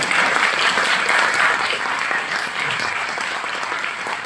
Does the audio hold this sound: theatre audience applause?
yes